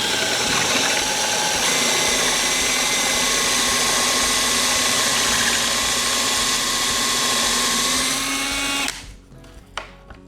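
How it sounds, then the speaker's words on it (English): A power drill bores a hinge cup hole through a clamped hinge jig, a steady loud whine with grinding for about nine seconds, then stops, followed by a few light clicks and knocks. "and then we can drill this out"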